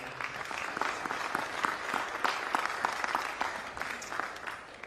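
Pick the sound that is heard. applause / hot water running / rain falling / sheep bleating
applause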